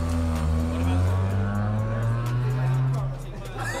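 A Honda Civic with its muffler removed revs hard and pulls away, a loud, rough engine drone rising and holding steady for several seconds under people talking nearby.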